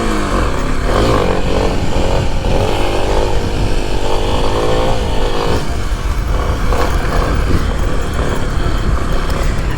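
A dirt bike engine revs hard and continuously through a stand-up wheelie, loud and close with rising and falling throttle surges and no talk.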